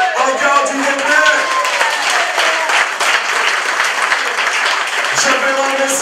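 Audience applause at a French municipal election list presentation for 2014, sustained dense clapping from a crowd throughout, loud and steady, with a voice briefly audible over it.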